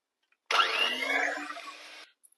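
Chocolate cake batter of butter, eggs and sugar is beaten in a close, loud whirring burst lasting about a second and a half, then stops abruptly.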